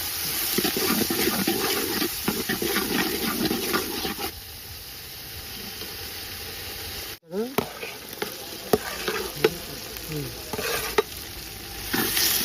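Turmeric and ginger-garlic paste fry in a pan for a Rayalaseema country chicken curry, with a continuous sizzle broken by scraping stirs and clinks of a spoon against the vessel, plus a brief thud partway through.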